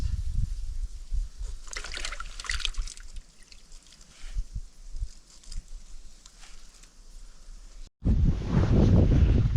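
Cold winter wind gusting outdoors at a fishing spot, rumbling against the microphone throughout, with a sudden loud, roaring gust near the end.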